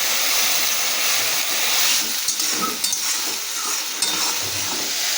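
Spice paste with salt, turmeric and Kashmiri chili frying in a pan, a steady close sizzle with scraping stirs and a few light clinks, alone without talk.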